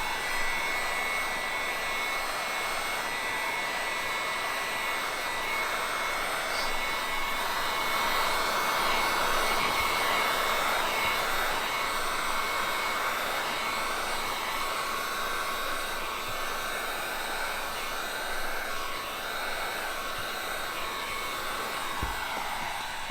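A heat gun blows a steady, loud airy whine while heating and shrinking window tint film on a car's front windshield, running continuously close by with no speech.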